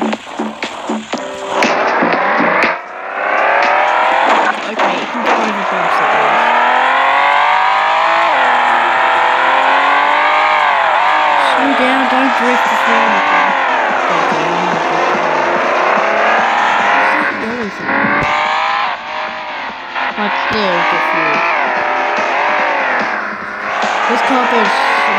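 A fast car's engine revs hard and sustained, pitch sweeping up and down through gear changes with tire squeal, loud and close throughout, with speech mixed in.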